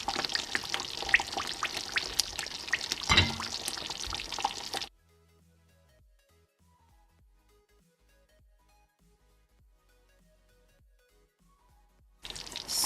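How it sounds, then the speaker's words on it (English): Classic Italian meatballs go into simmering sauce, making a bubbly, sizzling wash with a few soft plops for about five seconds before it drops to near silence. "I'm going to go ahead to start adding the meatball inside the sauce"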